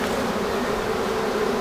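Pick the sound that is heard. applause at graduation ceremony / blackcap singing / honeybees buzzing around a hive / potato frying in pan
honeybees buzzing around a hive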